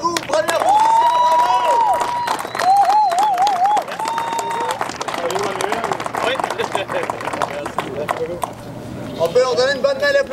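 A crowd applauds the winners at the Rallye Sanair 2014 on the asphalt circuit, steady clapping heard under a loud announcer's voice over the PA.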